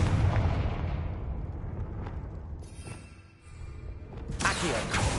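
A Confringo fire spell blasts in Hogwarts Legacy as a loud, dense, roaring burst that rumbles and fades over a few seconds, then flares again with a bright crackling surge near the end.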